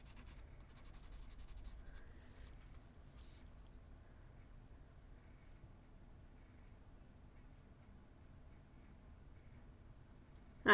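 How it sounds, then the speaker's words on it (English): Colored pencil scribbling directly onto paper in a quiet room, a soft continuous scratchy rasp that keeps going for several seconds at low level, with no talking. "Let's do some scribble on the paper and see how it comes out"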